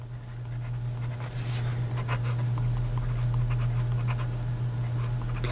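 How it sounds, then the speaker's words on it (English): A Jean-Pierre Lepine Yuzu fountain pen with a medium steel nib writes on paper with Papier Plume ink. Soft, continuous scratchy strokes with small irregular taps sit over a low steady background hum. "So here we go with the writing sample for the Jean-Pierre"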